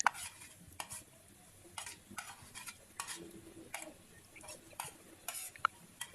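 Shallots and chili being stir-fried in a pan, a spatula scraping and stirring in quick irregular strokes over a light, steady sizzle, close by with no talking.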